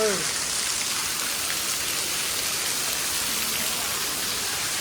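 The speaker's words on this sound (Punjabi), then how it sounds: "ਜ਼ਬਰਦਸਤ ਬਾਰਿਸ਼ ਹੋ ਰਹੀ ਹੈ" Heavy rain pours steadily over a farm during the maize harvest, a loud, dense, continuous hiss and patter of drops with no break and no voices.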